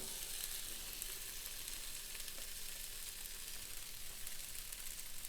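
Chicken cooking on an Aldi George Foreman grill, a soft, even, continuous sizzle and hiss that stays level throughout with no talking.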